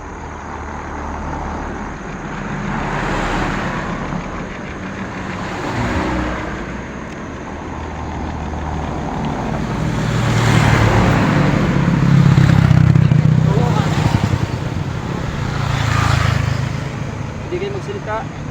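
Vehicles pass on a road in Balamban, Cebu, as repeated swells of traffic noise rise and fade, several cars and heavier trucks going by at moderate distance while people talk over them.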